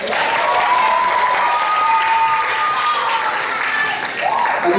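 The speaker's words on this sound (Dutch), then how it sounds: "Geef hem maar een groot applaus." An audience at a CD presentation for a young singer breaks into sustained, loud applause, dense clapping filling the room, with an announcer's voice carrying over it.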